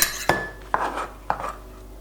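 A few metallic scrapes and clinks of a utensil against a dish as chopped garlic is scraped in, three separate strokes, close up with no speech.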